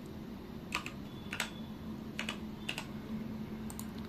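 Typing a file name on a computer keyboard, several short bursts of keystrokes spread across the stretch, fairly close and at moderate level over a steady low background hum.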